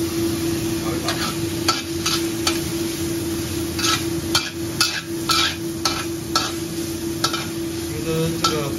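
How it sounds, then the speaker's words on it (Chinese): King oyster mushrooms, green pepper and minced pork are stir-fried in a wok, with a constant sizzle under regular scraping clacks of a spatula against the pan. "炒一炒。"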